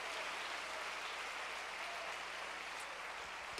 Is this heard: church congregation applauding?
yes